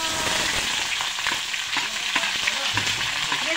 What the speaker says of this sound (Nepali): सुरु मैले जिरा खोर्सानी तेजपत्ता हाले अब म प्याज हाल्छु